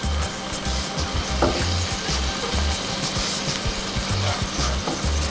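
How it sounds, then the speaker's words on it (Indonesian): Water from boiling broccoli poured into a hot pan for glazing gives a steady, loud sizzle, with soft rhythmic stirring thumps underneath throughout. "Oke, kita masukin air dari yang tadi rebusan untuk di glazing"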